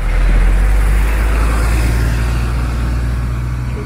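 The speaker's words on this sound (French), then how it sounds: "Oh, gros bus." A big city bus in Shanghai rolls past close by with a loud, steady low engine rumble and road roar that fades only slightly over a few seconds.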